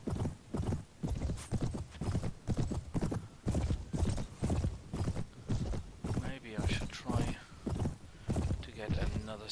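Horse hooves clip-clop steadily in a rhythmic gallop within the Mount & Blade video game, loud and continuous, with someone talking over them throughout.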